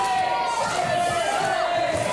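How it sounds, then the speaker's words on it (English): A wrestling crowd at Market Rasen chants in unison, a steady, loud mass of voices that fills the space continuously, while a commentator's voice can be heard over it. "Crowds chanting that Joey sucks"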